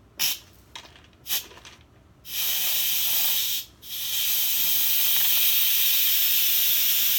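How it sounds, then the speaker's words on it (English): An Instant Pot pressure cooker vents steam: a few short hissing bursts, then a loud, steady close hiss that dips briefly and resumes continuously. "So it won't let you open it until the steam is all out and the pressure's out."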